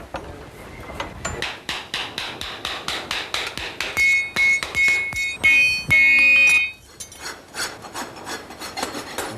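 A farrier working on horses at dawn in Corsica, striking and rasping hooves and shoes with a steady run of sharp metallic blows and scraping strokes, close and loud with ringing tones throughout.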